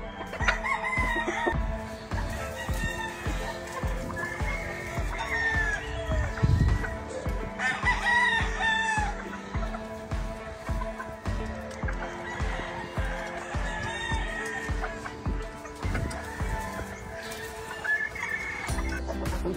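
A rooster crows several times amid scattered hen clucks and farmyard noise, fairly close, with bursts recurring across the stretch, from Yellow Leg Albany Kelso chickens.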